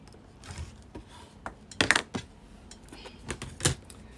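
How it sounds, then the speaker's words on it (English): Scissors cut off a side of vintage fabric while making a dress block, giving a few soft, separate snips and handling noises, close and quiet, with no talking. "So now I'm just cutting this off."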